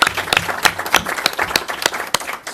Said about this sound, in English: Let's give Chief a big round of applause and thank her.